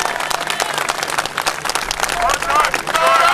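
Audience applause for an Orthodox priest, with rapid, dense hand claps building louder over a few seconds while a voice speaks over them.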